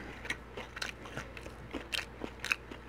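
Crunchy fried Flamin' Hot fish is bitten and chewed up close, a series of crisp crunches and crackles from the coating at an uneven chewing rhythm, fairly quiet.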